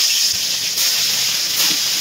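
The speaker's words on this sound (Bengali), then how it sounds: "তেলটা গরম হয়ে গেছে, এবার আমি সিদ্ধ করা এঁচড়টা ভেজে নেব।" Half-boiled jackfruit frying in hot mustard oil in a wok, giving a steady, loud hiss that runs unbroken throughout with no pauses.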